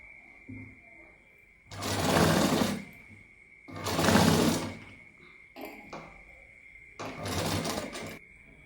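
A sewing machine stitches fabric in four separate bursts, each lasting about a second, with short pauses between them. A steady whine runs underneath throughout.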